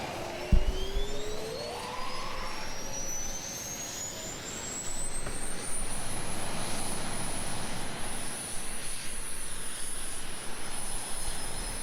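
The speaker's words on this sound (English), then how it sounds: "Go ahead and pressing that left engine start, and we'll hear that beautiful signature noise." The left jet engine of an F-22 Raptor starting up, a rising turbine whine that climbs steadily in pitch over a loud, broad rushing roar, close and continuous with no voices.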